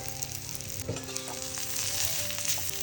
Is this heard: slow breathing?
no